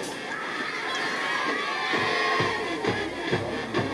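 Crowd noise at a high school football game, Reidsville vs McMichael at night, a steady broad roar of spectators with scattered shouts and footfalls, moderately loud and continuous throughout.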